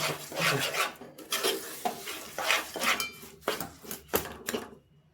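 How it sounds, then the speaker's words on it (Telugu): A sesame seed and peanut laddu mixture is stirred in a pan until it thickens, giving repeated scraping and stirring strokes close by in an irregular rhythm, with no talk. "ఇట్లా కొంచెం ఇది గట్టి పడేదాకా కలపండి."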